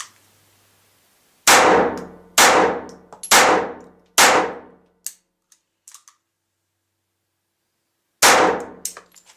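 A Walther TPH .22 LR pistol fired with Remington ammunition: five sharp, evenly spaced shots ringing out close, a few faint clicks, then a pause before one more shot.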